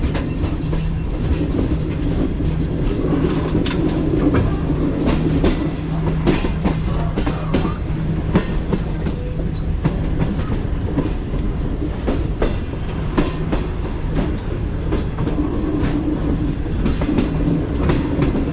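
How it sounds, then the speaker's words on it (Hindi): A Tezgam passenger train pulls away from Pattoki railway station on the Multan to Lahore line, heard from on board in business class: a steady, loud rumble with constant clickety-clack of wheels over rail joints throughout. "तो ये अलविदा कह दिया है ट्रेन ने पतौकी रेलवे स्टेशन को।"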